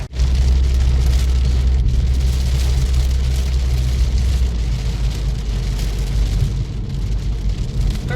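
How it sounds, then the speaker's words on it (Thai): Heavy rain pounds a car windshield while driving, a loud dense roar of drops over a low engine rumble, steady throughout with no talk. "ฝนตกหนักขนาดนี้นะครับเราไม่ได้เคลือบกระจกเนี่ย มองทางข้างหน้าแทบไม่เห็นเลยนะครับ"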